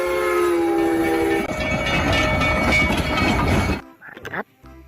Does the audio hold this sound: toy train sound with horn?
yes